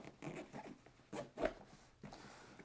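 A zipper on a bag pocket is worked near the microphone, giving a few short, quiet scratchy pulls and rubs with a slightly louder rasp in the middle.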